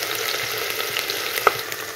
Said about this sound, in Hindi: प्याज को भूनेंगे हम ख़तरनाक तरीके से जब तक ये ब्राउन नहीं हो जाएगा।